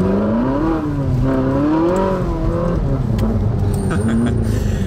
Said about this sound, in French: on va partir pour un ride plaisir à bord de cette Ferrari